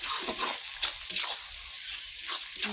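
Ginger paste sautéed in hot oil in a pan gives a soft continuous sizzle with occasional stirring scrapes, fairly faint and steady, with no voices.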